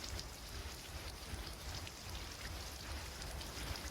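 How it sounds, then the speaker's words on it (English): Steady rain falls throughout, a soft continuous hiss of drops on surfaces with no talk over it. "We got like some rain now."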